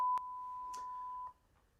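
A single steady censor beep tone holds for about a second, clean and close, with a couple of faint clicks around it and quiet afterward.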